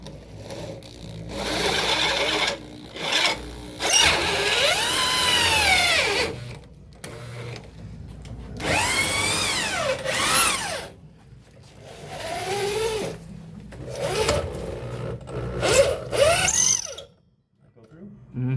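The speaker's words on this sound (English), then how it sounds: "We're going to put a little bit of oil on this drill bit so we can go through." Power drill with an oiled bit boring through a bolt on a Grom clone engine: repeated whirring bursts that start and stop, rising and falling in pitch as the bit bites, with people talking between bursts.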